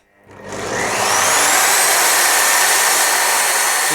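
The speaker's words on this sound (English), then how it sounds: "Right, let's get the dust extractor on" A workshop dust extractor starts up and spins up within a second into a loud, steady, hissing roar that holds on without people talking.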